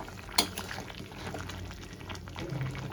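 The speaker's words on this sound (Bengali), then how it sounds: "দেখো ঝোলটা কি সুন্দর টকবক করে ফুটেছে।" Tangra fish curry gravy with potato and tomato bubbling at a boil in a pot, a soft, steady simmering burble with a single sharp clink of utensil on metal near the start.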